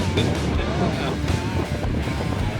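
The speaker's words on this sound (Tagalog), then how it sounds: "Lakas ng alon." Strong sea waves wash and churn around a boat among the Hundred Islands off Alaminos City, Philippines, with a steady, loud roar of water and wind buffeting the microphone throughout, and faint voices mixed in.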